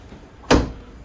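A kitchen drawer in the galley of a Pardo Endurance 60 yacht slides open in one short, sharp burst of noise, close by in an otherwise quiet interior.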